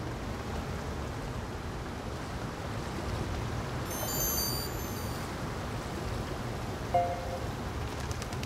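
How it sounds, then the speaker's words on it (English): Steady rain falls throughout, a dense even hiss with a faint bright chime near the middle and a single short knock toward the end; no voices. "The only sound is the rain."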